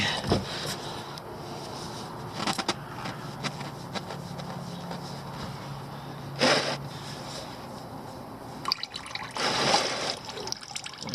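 Engine oil trickling and dribbling out of the drain on a 2017 Jetta 1.4T during an oil change, a steady faint liquid flow with a few sharp clanks and handling noises near the end.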